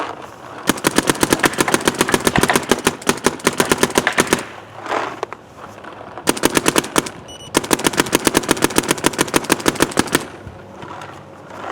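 A Planet Eclipse Gtek M170r paintball gun fires long, rapid strings of sharp pops, three loud bursts broken by short pauses, close up with no talking.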